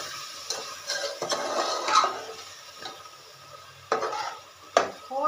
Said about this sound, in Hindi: मैंने इनको पूरी तरह फ्राई करना है।